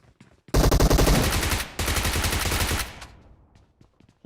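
Rapid automatic gunfire in the mobile game PUBG Mobile KR bursts loud and close in two sustained volleys of about a second each, then tails off into scattered quieter shots.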